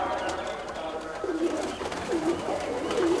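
Pigeons from a Punjabi loft of prize-winning birds coo in low, repeated rolling calls, three or four clear phrases over a steady, busy background.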